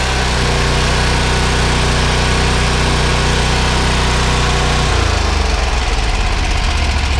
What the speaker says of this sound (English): If you watch right here when I give it throttle, you can see the butterflies go wide open and the governor catches it.